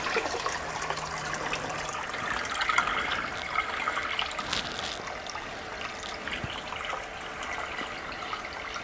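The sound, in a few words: saltwater being poured into an aquarium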